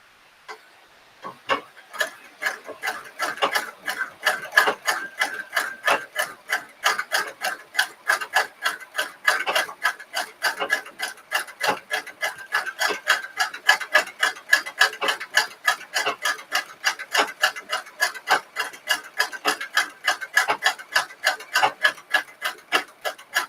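Treadle sewing machine running steadily, a fast, even train of light clicking ticks carrying on without a break and heard close up, with no talking.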